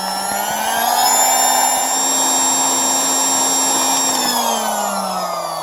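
An AIRBANK D2 rechargeable electric air pump running in second gear while inflating: a loud, steady motor whine with a strong droning hum, holding constant before the pitch drops slightly near the end.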